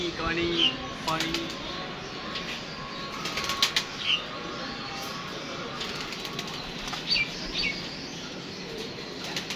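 Pigeons flapping their wings in flight nearby, quick bursts of wingbeats over a steady background with faint chirps, while someone talks.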